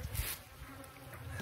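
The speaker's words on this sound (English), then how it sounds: "that's a good amount of bees" A dense swarm of honeybees buzzing close by around a full hive box in a steady, droning hum with no voices.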